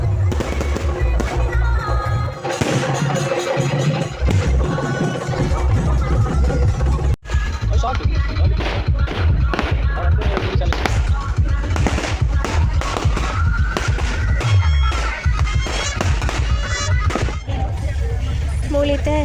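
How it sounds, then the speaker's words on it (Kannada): Fireworks crackle and bang continuously during a Ganesh Chaturthi procession, dense rapid pops and louder blasts close by, with crowd noise and music blending underneath for a long stretch. "ಗಣಪತಿನ ಮೆರವಣಿಗೆ ಎತ್ತಿಂಡು ಸಿಡಿ ಸಿಡಿಮದ್ದು ಪ್ರದರ್ಶನ"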